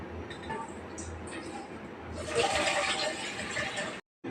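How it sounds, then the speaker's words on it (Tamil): A little water is poured into a pot on a lit stove while a herbal drink is being made. It starts as a soft trickle and swells into a louder rushing splash partway through, then cuts off abruptly. "சிறிதளவு நீரை ஊற்றவும்."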